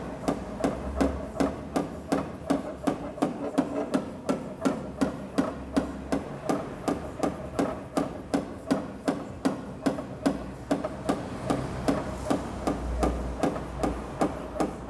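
Rapid, steady tapping of a paintless dent repair tool working a slight ripple out of a car body panel, dozens of evenly spaced sharp metallic ticks close up, with no talking.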